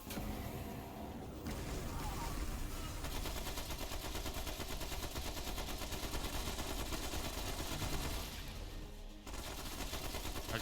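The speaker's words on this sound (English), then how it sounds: "Okay, stop firing" Video game gunfire roars in a sustained, loud barrage of rapid shots for about ten seconds, with two short breaks near the start and near the end.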